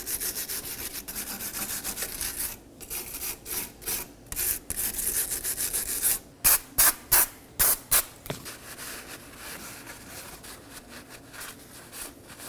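Brake cleaner sprays in a long hiss, then in a run of short bursts, near and loud, with rag wiping and rubbing on a Toyota Corolla wheel knuckle during front wheel bearing replacement.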